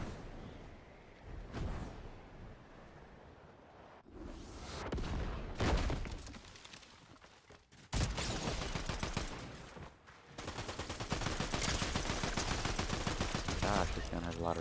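Rapid bursts of gunfire from a Fortnite battle, loud and dense, coming in several volleys with short gaps, heaviest and most continuous in the second half, with a voice speaking over parts of it.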